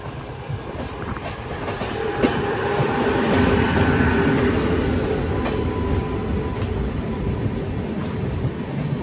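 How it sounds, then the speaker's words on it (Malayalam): Howrah–Ahmedabad express train pulling out of a station, a steady loud rolling rumble of wheels on rails with intermittent clicks and metallic squeaks, building slightly then holding constant. "അപ്പോൾ അവിടുന്ന് ഒരു ട്രെയിൻ ഇതാ ഡിപ്പാർട്ട് ചെയ്ത് പോകുന്നതാണ്"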